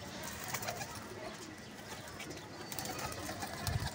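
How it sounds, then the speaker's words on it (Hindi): Pigeons kept for sale at a loft in Lahore, including racing birds, cooing softly amid a steady murmur of background noise, with a few low coos standing out near the end. "बेच नीले भी ने, दूजे भी ने कबूतर।"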